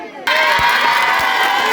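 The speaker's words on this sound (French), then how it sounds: "Ils vont sortir tout de suite et vous allez les acclamer." A crowd at a francophonie prize event erupts suddenly into loud cheering and shouting to welcome the champions, sustained and close after a brief quiet start.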